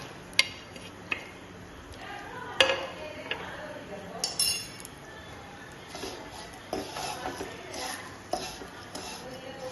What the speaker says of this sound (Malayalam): ഈ സേമിയ ഇതിലേക്ക് ഇട്ടിട്ട് ഒന്ന് വറുത്ത് എടുക്കാം